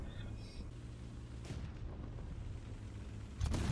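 Booming cannon shots from an SAV vehicle in War Thunder: one heavy blast mid-way and another loud report near the end, over a low engine rumble.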